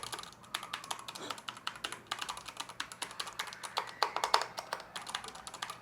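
Rapid typing on a Zebronics Max Ninja 200 mechanical keyboard, a continuous stream of soft, close key clicks and taps at an irregular quick rhythm, fairly quiet overall.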